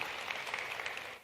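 Audience applause at a talk discussing LGBTQ issues and the internet, a dense steady patter of many hands clapping at moderate level, continuing briefly on its own before tapering at the end.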